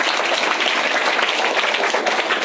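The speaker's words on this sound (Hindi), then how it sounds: "चलो इस बच्चे के लिए ताली बजाओ जोर से जरा" Dense clapping from a group of schoolchildren for a child who told a story, steady and fairly loud throughout, with no voices over it.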